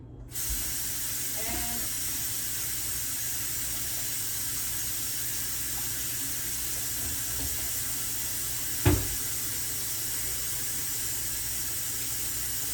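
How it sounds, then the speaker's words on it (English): Hands are washed under a running tap, a steady, moderately faint water hiss that runs unbroken, with one sharp knock near the end. "I'm washing my hands again."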